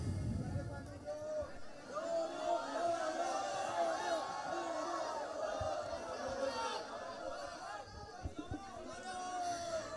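A noisy crowd at a political gathering fills the air with dense, continuous chatter and babble, loud and close, with occasional shouts and whoops rising out of the steady hubbub.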